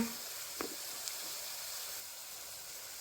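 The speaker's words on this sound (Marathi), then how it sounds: "हे सर्व मसाले व्यवस्थित परतून घ्यायचे" Spices such as red chilli powder, turmeric and ground coriander sauté in a pan with a soft, continuous sizzle and hiss, marked by a brief clink near the start.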